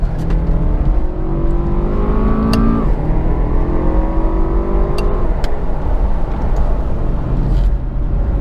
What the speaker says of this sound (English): You can flip it over to the little manual mode, keep it down in first, and the car will just rocket away.